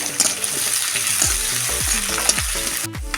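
Chillies and capsicum frying in oil, a continuous close sizzle with stirring scrapes throughout and a brief clatter near the end, no talking.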